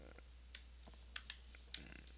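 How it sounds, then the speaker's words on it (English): Computer keyboard keys click in sparse, irregular taps, faint and close, while someone writes code for a programming tutorial, with a steady low hum beneath. "my typing here"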